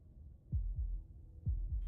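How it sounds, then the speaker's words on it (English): Heartbeat sound effect from the video game Slay the Princess: two pairs of deep, thudding lub-dub beats, close and alone, with a slow steady rhythm. "That was the sound of a heartbeat"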